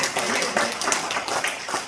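An audience at a revival ministers' conference claps steadily, a thick continuous patter of many hands filling the room, fairly loud with no pauses.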